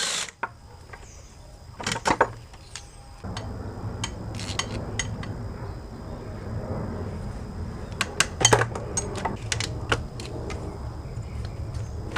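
A ratchet works loose the top starter bolt on a Honda S2000 during a clutch replacement, heard as short bursts of metallic clicking and clanks over a quiet workshop background, close by and with no talking.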